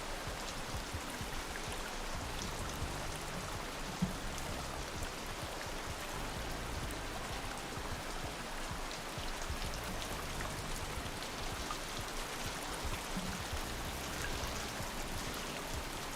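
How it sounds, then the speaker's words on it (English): Waterfall in a room in the video game Rain World, a steady broadband rushing roar that holds constant and fairly quiet for the whole stretch. "Sorry if this room is a bit loud. Oh, did I dodge that? Unintentionally. It's the waterfall."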